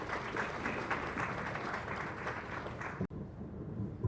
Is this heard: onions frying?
no